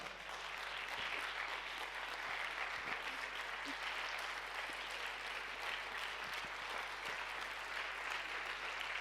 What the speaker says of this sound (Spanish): Vamos a levantarnos y darle un fuerte aplauso al Señor.